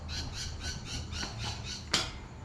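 Parakeets squawk in trees on a muggy day, a steady run of harsh, rhythmic calls repeating about every quarter second with one sharper squawk near the end, moderately distant.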